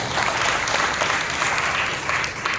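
A Telugu Baptist church congregation in Nellore claps during a service, a dense, steady wash of applause from many hands that carries on unbroken throughout.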